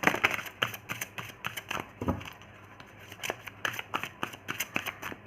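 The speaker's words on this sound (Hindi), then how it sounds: "पाइल नंबर 1 के लिए कार्ड निकालते हैं यहाँ पे हम" Tarot cards are shuffled and drawn in quick riffling and snapping bursts, a steady run of crisp papery flicks and slaps, close and fairly quiet with no talk over them.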